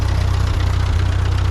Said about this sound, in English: This old tractor does a nice job